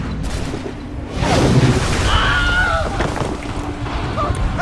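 A deep boom erupts in Assassin's Creed III, followed by a rumbling, whooshing aftermath under a continuous game soundscape, with speech faintly in the background.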